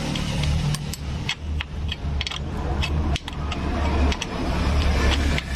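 A Honda Supra motorcycle engine runs up close during a clutch test while the clutch plates are being replaced, giving a steady mid-pitched drone with slight rises in revs and occasional mechanical clicks and clatter.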